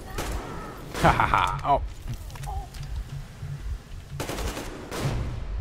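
Rapid bursts of automatic gunfire in the PC shooter Metro Exodus, one near the start and another longer volley later, with a man laughing and exclaiming between them.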